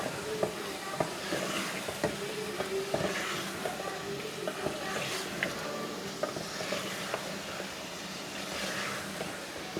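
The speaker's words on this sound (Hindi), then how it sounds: "अच्छी तरह से हमने इसको अपने मसाले में भून लेना है।" Aloo palak frying in masala in a pan, a dense continuous sizzle with frequent small stirring clicks and scrapes, close and steady throughout.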